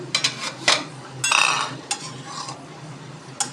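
A metal lid clinks and scrapes as it comes off a simmering pot of vegetable curry, with a few sharp clatters of cookware spread over a few seconds and a soft sizzle underneath.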